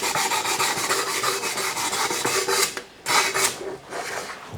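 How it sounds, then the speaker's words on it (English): Wet and dry 180-grit paper sands the cut top edge of a carbon fibre bicycle steerer tube in the frame: close, continuous rasping strokes with a couple of brief pauses. "Wet and dry 180 just to tidy the top edge up."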